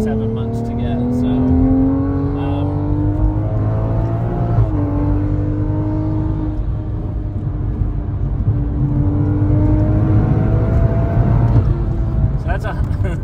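A car fitted with a Pure 800 turbo upgrade drives hard with a loud, droning exhaust, its engine pitch climbing through gears in steady pulls, heard from inside while people talk.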